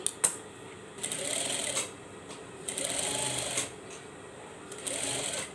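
A sewing machine stitches plain fabric for the back of a plastic chair cover, running in three short whirring bursts with brief pauses between them, close and steady.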